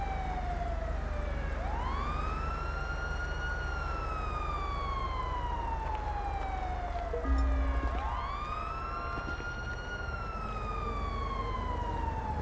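An ambulance siren in Grand Theft Auto 5, a loud, steady wailing tone that sweeps slowly up and down in long cycles over a constant low engine rumble, close by and sustained, with no voices.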